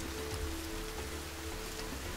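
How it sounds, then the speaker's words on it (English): Steady rain pours in The Forest video game, a dense, even hiss of falling drops and splatter that fills the short stretch without pause or voices. "Oh look, it's raining."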